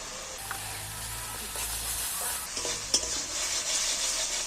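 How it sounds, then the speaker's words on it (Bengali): Masala for an egg curry is sautéed and stirred in a pan: a close, continuous sizzle with repeated scraping strokes of the spatula and one sharper clack near the end, and no talking. "এইবার ভালো করে মশলাটাকে আবারও কষিয়ে দিচ্ছি"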